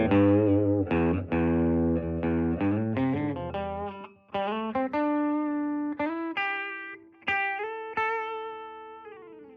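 An electric guitar played through a Fender Princeton solid-state amp on the bridge pickup with a bright, twangy tone, strummed chords followed by single picked notes that ring out and decay.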